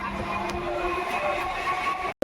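A train pulls into a station on a rainy day on the way to Sealdah, with a steady rumble and rolling rail noise throughout that cuts off abruptly at the end.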